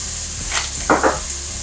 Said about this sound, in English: Chop it up, mince it real nice, and just put that into our pan. Just get that sauteing on a medium-high heat.